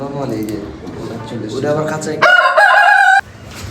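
Tiger chickens cluck and a rooster crows loudly and close at a poultry farm, with a person talking over the birds at first.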